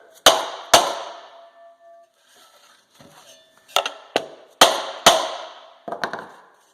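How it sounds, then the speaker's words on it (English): Sharp hammer blows on a solid plastic block seat a part, in two pairs, then a faint shuffle, then two more paired strikes and a lighter final pair, loud and close with ringing decays, no talking. "I got a solid plastic block we use. And we seat that."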